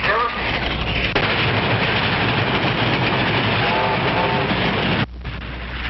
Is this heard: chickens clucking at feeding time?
no